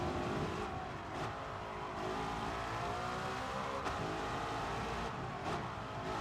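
Continuous engine roar of a 1955 Mercedes F1 car driven in a racing game, revs rising and easing through gear changes, loud and uninterrupted.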